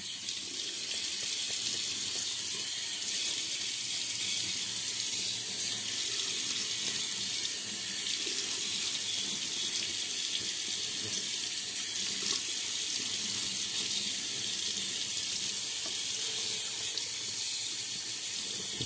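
Tap water runs steadily into a sink to wet a shaving brush, a continuous bright hiss with no break and no voices.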